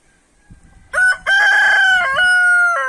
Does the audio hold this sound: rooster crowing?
yes